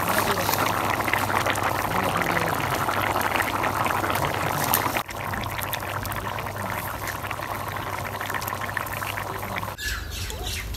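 Curry with added water, an egg curry with sweet gourd, boiling in a pot: a steady bubbling, gurgling simmer throughout, with a brief clunk near the middle and a clatter near the end.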